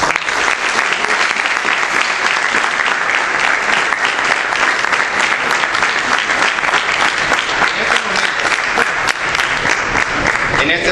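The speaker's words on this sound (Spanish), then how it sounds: "con un fuerte aplauso." Loud, sustained applause from an audience welcoming a guest at a historical talk at a school, many hands clapping evenly and close for about eleven seconds without a break.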